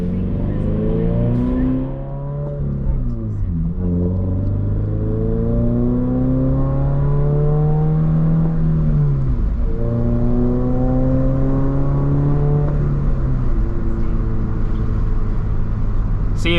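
A Subaru BRZ's engine revs repeatedly and loudly from inside the car on a downtown drive, climbing through the rev range in several long sweeping pulls with drops between, steady and close throughout.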